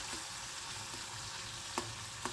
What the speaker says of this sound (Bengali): দিয়ে দেবো এবার একটা গোটা টমেটো কুচিয়ে